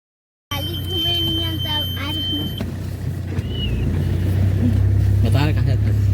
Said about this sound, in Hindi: अब अपन मन निकलते हैं यहाँ से गाड़ी में सब बैठ के।